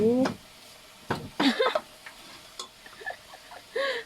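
Pork sizzles in a hot pan while being stir-fried, with bursts of scraping and frying between voices talking over the cooking.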